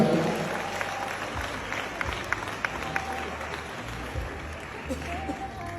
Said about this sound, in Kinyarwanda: umukunda wese amumera amashyi menshi cyane